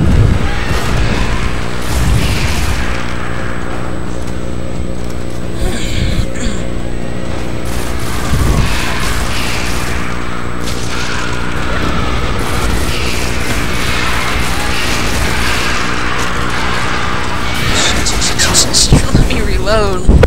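Grenades burst in the video game Destiny, with a chain of booming explosions and gunfire layered through a busy battle, while players talk and shout excitedly over the noise.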